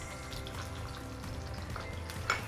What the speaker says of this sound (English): So I'm just going to add my onions.